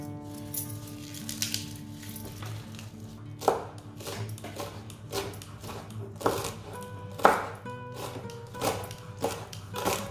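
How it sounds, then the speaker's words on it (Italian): A knife chops parsley repeatedly on a cutting board in irregular sharp taps, close by, over a steady low background hum. "iniziamo per prima cosa a tritare il prezzemolo"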